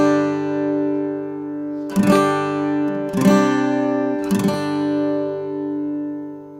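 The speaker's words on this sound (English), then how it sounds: "And then the chords together, strummed, sound like this." Guitar chords strummed with downstrokes: three separate strums at an even pace, each ringing out and sustaining, close and alone.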